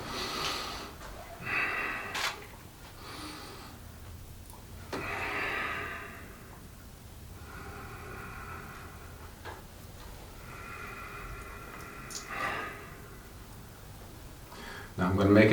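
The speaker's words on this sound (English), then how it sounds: "I'm going to demonstrate this first in a way that is gentle, a gentle way of doing warrior's breath" Gentle warrior's breath from a qigong breathing exercise: a series of soft, airy exhalations and inhalations at a slow, steady pace, close and quiet, with a sharper breath right at the end.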